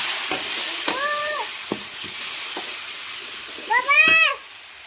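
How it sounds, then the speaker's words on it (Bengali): Onions fry in a pan with a constant close sizzling hiss, broken by a few scraping stirs and a brief high-pitched tonal call near the end. "তো মাছগুলো উঠিয়ে নিয়ে এবারে পেঁয়াজ ভেজে নেব।"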